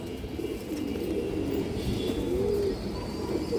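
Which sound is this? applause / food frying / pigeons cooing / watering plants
pigeons cooing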